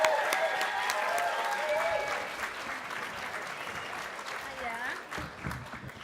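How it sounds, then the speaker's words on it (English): Audience applause at an animation student awards ceremony welcoming the MC, comedian Alison Spittle: steady, dense clapping with cheers and some voices in the crowd, fading slightly toward the end. "So please, round of applause and welcome on Alison Spittle."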